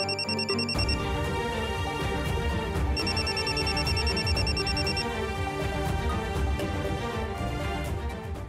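A telephone rings while someone calls Prajakta, short bursts of electronic ringing repeated over a loud steady background, with no voices.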